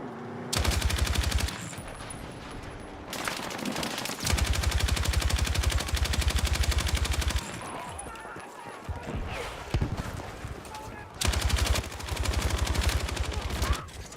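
Gunfire rattles in a shooter video game as repeated bursts of rapid automatic shots, loud and close, broken by short pauses between volleys.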